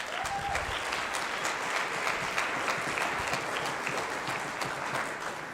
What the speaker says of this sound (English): You guys should always give the teachers and your principals a round of applause